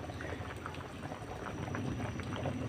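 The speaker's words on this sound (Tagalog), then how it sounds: "Kumukulo na siya." Mung bean soup with bitter melon leaves bubbling at a steady rolling boil in a pot, close up, with dense continuous gurgling and popping.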